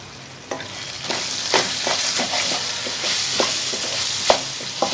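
Chana dal frying in a pan, a steady close sizzle with repeated scraping strokes of a spoon stirring it through the oil.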